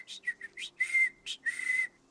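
A woman whistles a short improvised tune of several clear, rising and falling notes in quick bursts, close and alone, meant to mimic bird or tree sounds.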